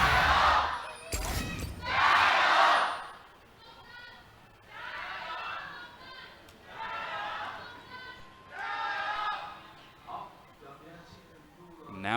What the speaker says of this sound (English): You can hear the crowd already chanting the EDG fighting signs.